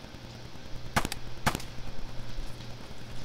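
Video game gunfire: two sharp, loud shots about half a second apart, each followed by a short burst, over a low background hum with no talking.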